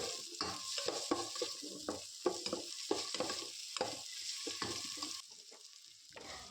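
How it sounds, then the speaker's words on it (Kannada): Dried red chillies and onions with mustard seeds and cumin frying in a pan for bisi bele bath, a steady sizzle broken by repeated scraping stirs, close and fairly loud, quieter near the end. "1-2 ಒಣಮೆಣಸಿನ್ಕಾಯಿ, 1-2 ಈರುಳ್ಳಿ ಎಲ್ಲದನ್ನು ಫ್ರೈ ಮಾಡ್ಕೊಳ್ಳಿ"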